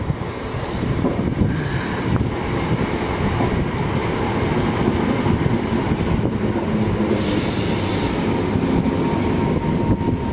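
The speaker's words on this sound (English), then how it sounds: "Departing is the 1401 London Midland service from Birmingham New Street to Liverpool Lime Street" A London Midland passenger train on the Birmingham New Street to Liverpool Lime Street service rolls through Liverpool Lime Street station with a loud, steady rumble of wheels and carriages and a brief hiss partway through.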